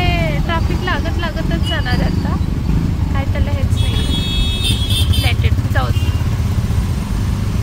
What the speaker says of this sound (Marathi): आता ट्रॅफिक लागतच जाणार.